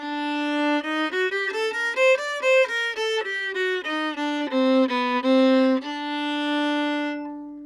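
Klezmer violin tune in the Phrygish mode, a clean solo line of ornamented, sliding notes played at moderate pace, ending on a long sustained tone.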